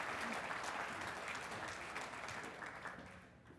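Guests at the 2014 Irving police banquet applaud in a full, steady round of clapping that fills the room, gently thinning toward the end with no talk over it.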